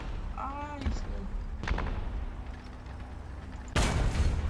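War Thunder tank gun firing: a sharp broadband blast near the end, with earlier booms at about 1.7 seconds, heard under a player's voice and game noise.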